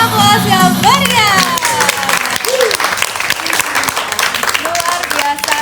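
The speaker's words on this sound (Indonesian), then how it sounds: "Beri aplaus ya, beri ya." Audience applause in a podcast studio during an indie film festival episode, loud and sustained clapping from a crowd with some cheering and voices mixed in throughout.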